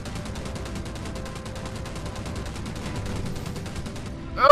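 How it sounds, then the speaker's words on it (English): Rapid, steady machine gun bursts from an aircraft in the Battlestations: Pacific naval combat game, a dense rattling stream of shots running for about four seconds before a louder burst at the end. "We'll finish it off with machine gun fire."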